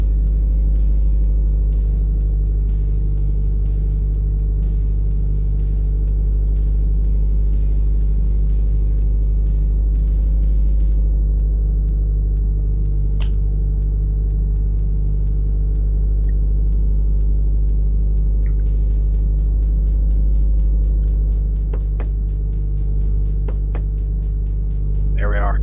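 A race car engine idles and drones in the My Garage video game, a loud, steady low rumble with constant harmonic hum throughout, with a few faint clicks and taps on top.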